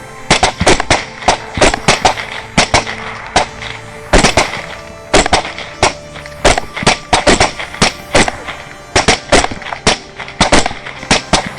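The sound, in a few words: rifle gunfire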